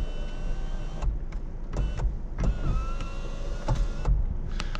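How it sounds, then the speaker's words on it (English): A power sunroof on a 2019 Toyota RAV4 venting open, heard as a low electric motor hum inside the cabin with several sharp mechanical clicks and thumps as the panel tilts up. No one speaks. "we have a nice sunroof, which you can vent up"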